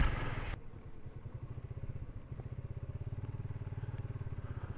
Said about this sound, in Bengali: ঝামেলা ছাড়াই আমার বাইকটাকে রাইড করছি